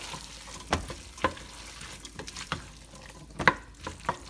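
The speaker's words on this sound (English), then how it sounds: "Give them a good stir." Maize and beans being stirred in a cooking pot, a few scraping, clattering strokes spaced irregularly against a soft hiss, fairly close and moderately quiet.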